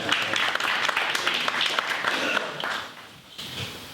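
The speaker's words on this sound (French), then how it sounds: "oui, applaudissez-le." An audience applauds at a Paris forum, a dense burst of clapping from a crowd that thins out after a few seconds.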